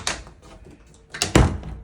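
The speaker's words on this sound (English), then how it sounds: "This door just won't shut properly." An interior door is pushed shut but fails to latch, giving a couple of light taps and then a louder wooden thunk near the end, close and alone.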